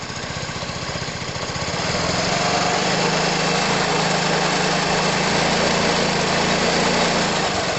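A small engine runs steadily, its pitch rising as it revs up after a couple of seconds and then holding at a higher, buzzing drone.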